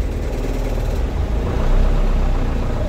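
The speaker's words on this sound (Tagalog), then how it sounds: "nanginginig ang makina pagka pinapasok ang kambyo" An Isuzu 4HL1 truck engine with a transmission problem shakes as gears are engaged, a dense, rumbling low-frequency drone that grows slightly louder and rougher midway, heard close without talk.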